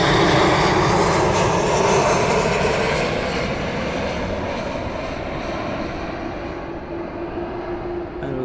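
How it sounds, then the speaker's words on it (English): A Ryanair jet passes overhead at night at East Midlands Airport, its engine roar loud and steady at first, then slowly fading as it moves away, with no voices. "So we've got the RYANAIR"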